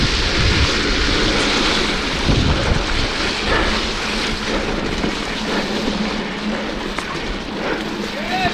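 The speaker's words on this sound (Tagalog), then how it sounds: "Lumukas ulan dito." Heavy rain during an enduro race, a loud, dense wash of downpour and wind noise throughout, with a rider's voice faintly underneath.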